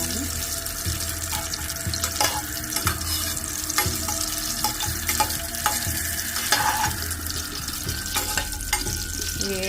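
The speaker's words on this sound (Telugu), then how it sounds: "జీడిపప్పులు కొంచెం వేగిన తర్వాత దాంట్లోకి మనం కిస్మిస్ వేస్తున్నామండి" Cashews and raisins fry together in a pan, making a busy, fairly loud sizzle broken by repeated stirring clicks and scrapes throughout.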